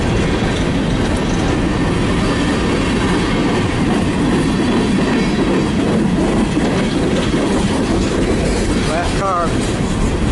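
BNSF westbound freight train passing in Fostoria, Ohio, loud and close, a steady rumble with rhythmic clickety-clack of wheels on rail joints and a brief wheel squeal near the end, continuous throughout.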